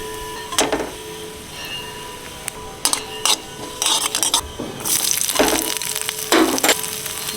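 Bay leaf and cumin seeds hitting hot oil while cooking chana dal with luchi, close crackling sizzle with bursts of spattering and scraping stirs, loud and irregular, with no talking.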